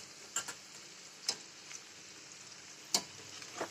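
Onion and gram flour fritters fry in a little oil, a faint, soft sizzle marked by a few sharp clicks and taps of a utensil against the pan at irregular intervals, without speech.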